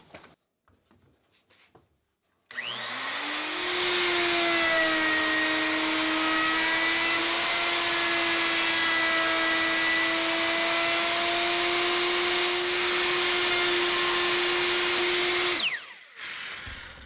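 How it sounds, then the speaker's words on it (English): A router fitted with a bullnose bit cuts limber holes in wooden boat frames for a Bouchie dory, spinning up with a rising whine into a loud, steady high-pitched scream for about thirteen seconds before winding down. "With a bullnose router bit and a depth stop on there, I can make the whole limber in just a few passes."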